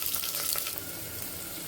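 Onion fries in a pressure cooker for mutton handi, a soft, even sizzle heard alone, with a few faint scraping taps near the start.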